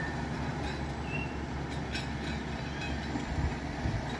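Tractor ploughing a field in the Drôme, finishing its last passes with the reversible plough's blades raised; a steady, fairly loud low mechanical rumble and drone continues throughout, with faint clanking on top.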